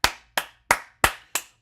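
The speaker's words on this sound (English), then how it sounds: "just round of applause" Five sharp hand claps ring out one after another at an even, unhurried pace, each crisp and close with a quick decay and no talking.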